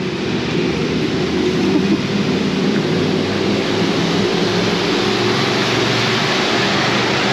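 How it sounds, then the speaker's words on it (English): Rain falls on a city street in Palma de Mallorca while someone walks outdoors. A dense, steady hiss fills the air close around, over a low rumbling undertone, with no voices. "this is something I very rarely do, is walk out in the rain"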